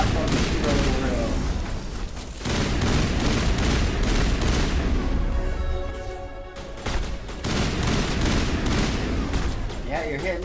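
Dense, sustained gunfire from the Mass Effect video game, rapid shots overlapping in loud bursts with a brief lull midway, over a game soundtrack.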